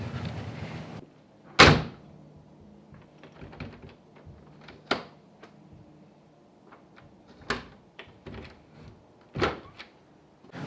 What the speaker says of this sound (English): I'm going to test shut the door to make sure that it shuts correctly